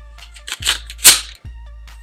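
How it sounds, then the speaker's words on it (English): A pump-action shotgun with a tubular magazine is racked to chamber a round: a quick pair of sharp mechanical clacks from the slide, back then forward, loud and close, with no talk. "what you do from there is you take and you rack your shotgun"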